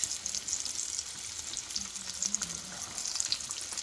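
Cauliflower pieces fry in hot oil, giving a dense, even sizzle with light crackles throughout, near and moderately loud, with no voices.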